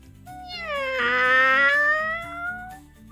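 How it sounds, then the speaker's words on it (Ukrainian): A single drawn-out cat meow, rising and then slowly falling in pitch, loud and close, with soft background music underneath. "голос котика лунав"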